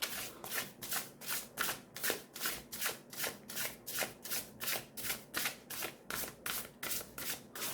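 Tarot cards being shuffled close up in a steady rhythm, about two riffles per second, repeating evenly with no talking.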